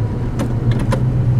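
A 1958 Studebaker Silver Hawk engine pulls in first gear at around 2,000 RPM, a steady low hum with a few light clicks over it, brief and close.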